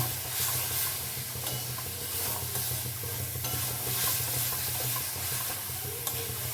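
Curry cooked down with tomato paste instead of oil, stirred steadily in the pan, giving a continuous close sizzle and hiss with repeated scraping strokes throughout and no talk.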